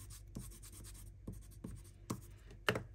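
Watercolor pencils scratching and scribbling on paper in short, uneven strokes, close and quiet, with a few sharper scrapes near the end.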